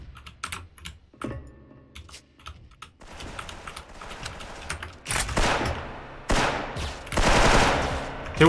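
Rapid gunfire in the video game Special Force crackles in bursts over quiet clicking, growing louder and denser toward the end, with sharp repeated shots.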